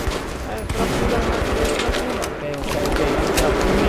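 Gunfire in the video game Metro Redux: a dense, continuous fusillade of rapid shots and crackling bursts, loud throughout the clip with no pauses.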